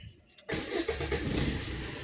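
A Maruti Swift VDi diesel car cranks briefly and catches on a single start, then settles into a close, low, even diesel idle.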